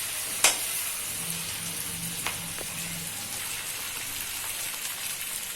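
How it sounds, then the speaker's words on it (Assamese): Turmeric and green chilies fry in hot oil in a pan, giving a steady close sizzle with light crackles and a few sharper pops, no voices over it. "এনেকৈ অকণমান দেৰি তেলখিনি ভাজি লওঁ।"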